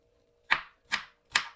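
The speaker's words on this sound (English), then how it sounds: "I want to show you how I cut the onion" A kitchen knife chops an onion into very tiny pieces on a cutting board for homemade burritos: three crisp, evenly spaced knocks about 0.4 seconds apart, close and fairly loud over a faint steady hum, with no talking.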